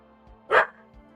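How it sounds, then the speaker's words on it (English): A single dog bark from a video game, one sharp short burst over quiet background music. "what's with all this barking?"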